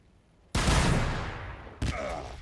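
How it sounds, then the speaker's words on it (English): In Warhammer 40,000: Battlesector, a loud sudden rocket launch whooshes out after a quiet moment and slowly trails off, then a second rocket fires just afterward. "fire the rockets"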